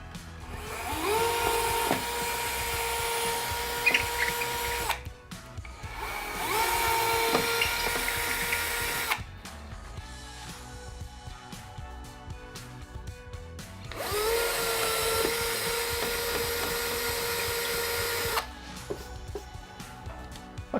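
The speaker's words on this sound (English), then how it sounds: "I've got my cordless drill all charged up and ready to go" A cordless drill with a masonry bit bores into a plaster wall in three loud bursts of high whining, each lasting a few seconds, separated by quieter pauses of handling noise.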